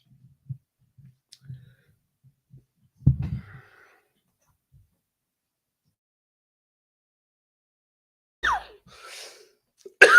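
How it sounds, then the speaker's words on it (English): Coughing and nose blowing land directly on a microphone during a late-night live session: a few faint breathy puffs, one sharp loud burst, then long silence before a pair of harsh close bursts at the end, with no talk. "I think I coughed, blew my nose, and all that stuff on the microphone"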